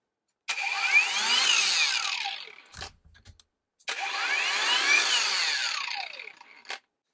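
A VERVEWAVE WT8822 cordless burnishing polishing machine on a DeWalt battery whirs up twice in two loud, close runs of about two seconds each, each one winding down before it falls silent.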